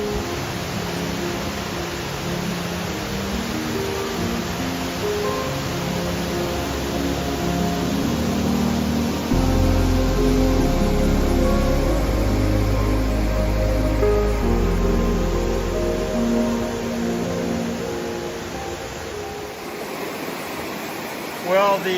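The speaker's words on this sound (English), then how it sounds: "So this is a beautiful waterfall." A waterfall beside a hiking trail pours in a continuous broadband rush, steady and fairly close, swelling louder partway through, with a voice talking over it.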